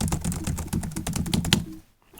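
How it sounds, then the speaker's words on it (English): Computer keyboard typing picked up by a Tonor Q9 microphone, a rapid run of clicky keystrokes at close range that stops abruptly, followed by near silence. "The keyboard"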